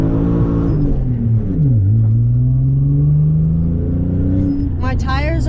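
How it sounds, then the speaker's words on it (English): 1993 Nissan 300ZX engine revving hard in a car on cold, spinning tires, loud and close, the pitch dipping then climbing steadily, with a voice talking over it. "My tires are so cold that they were spinning so fast. It already hit 7 grand on the gauge cluster, and I was barely moving."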